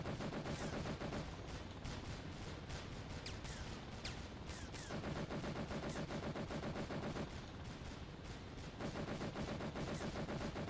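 Sustained machine-gun fire from a helicopter strafing in the Thunder Helix video game, loud dense rapid bursts running almost without pause with brief slight dips, no talk.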